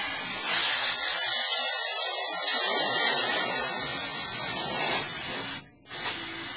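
Canned air sprays steadily into a beach ball, a loud, close, continuous hiss that cuts out briefly near the end before resuming.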